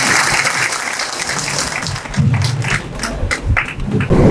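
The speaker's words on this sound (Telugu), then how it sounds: "గట్టిగా చప్పట్లతో" A crowd at a Telangana RMP and PMP doctors' meeting claps loudly and steadily for the whole stretch, dense applause close and continuous with a few bursts standing out.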